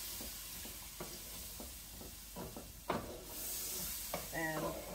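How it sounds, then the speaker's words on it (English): Onion cooking down in a pan for cubed steak with gravy, a soft steady sizzle and hiss with occasional stirring clicks and scrapes, close and fairly faint, with brief voice sounds near the end. "let that onion come to, let it cook down"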